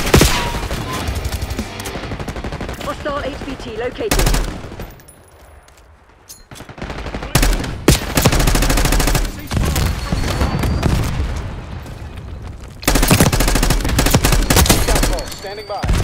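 Dense bursts of gunfire in Call of Duty Black Ops 6, loud rapid volleys and booms that drop out briefly midway, then return in heavy fusillades, with a radio-style voice speaking over the action.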